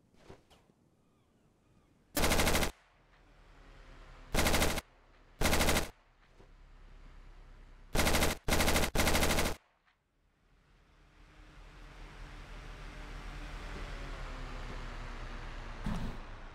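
Machine gun fire in the video game RavenField, set in a D-Day defense battle: loud, close bursts come in several short rapid strings, with some clustered back to back. A low battlefield rumble fills the gaps, and one brief final shot is heard near the end.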